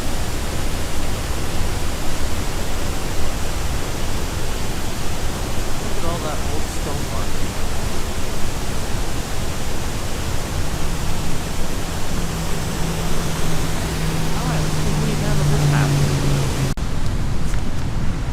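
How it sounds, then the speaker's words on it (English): Loud, steady water rushing through a canal lock roars continuously, broadband and close, with someone briefly speaking over it. "this one you can see the water rushing down there too."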